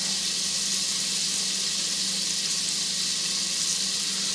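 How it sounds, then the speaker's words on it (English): About half a stick of margarine melting in a hot pan, a steady, dense hiss and crackle of sizzling fat that holds loud and unbroken throughout, close by with no one speaking. "I've got me some margarine over here melting"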